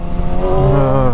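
A Kawasaki ZX6R sport motorcycle engine revs steadily up, its rising harmonic whine loud and close, held throughout with no voices.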